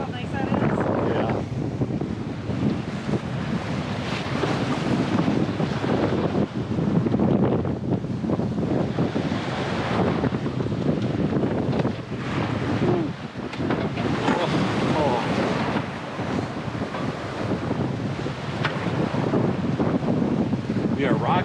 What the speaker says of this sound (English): the waves are heading 2 different directions right now because the wind was coming up the coast of Door County